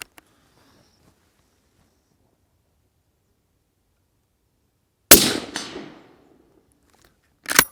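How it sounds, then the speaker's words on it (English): A rifle fires during a muntjac deer stalk outdoors: one sharp, loud crack with a ringing echo that fades over a second, then a second shot at the very end, both after near-silence. "So we'll have a shot here."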